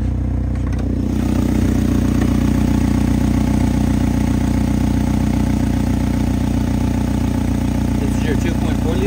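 A 2010 Chevy Malibu with a 2.4 liter engine idles close up under the open hood, a loud, steady, even rumble that holds for the whole stretch, with faint talk underneath.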